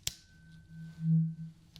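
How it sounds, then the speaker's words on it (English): A sharp metallic strike of a tuning fork followed by a faint, pure sustained tone that hums quietly for a moment, then another light tap at the end. "hit the tuning fork. It makes a sound like this."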